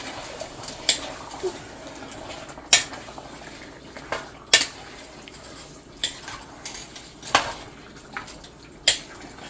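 Pork asado is stirred in a pan with butter: a utensil scrapes and clinks against the metal at uneven intervals, sharp knocks over a soft background hiss, with no talking.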